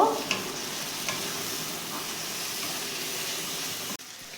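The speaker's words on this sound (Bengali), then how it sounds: "মশলাটা ভালো করে কষে নেব" Kashmiri chili, coriander and cumin powders fry in hot oil for a Bengali mutton curry, a steady close sizzle with faint stirring scrapes and a short dip near the end.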